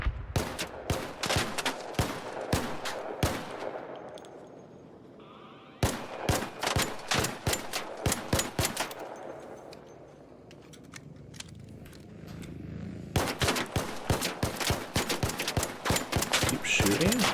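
Rapid bursts of automatic gunfire in the ARC Raiders shooter game, sharp close shots in fast repeated volleys separated by short lulls, with a voice talking over the shooting.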